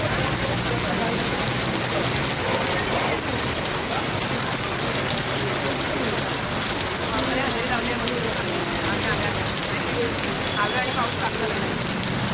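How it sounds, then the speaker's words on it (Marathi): Heavy rain pours down steadily in a dense, unbroken roar that stays loud and even throughout. "बघा धुवाधार पाऊस"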